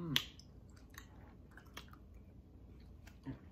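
Someone close to the microphone chews a soft, sticky caramel, with quiet wet chewing and squishing sounds and a couple of small clicks.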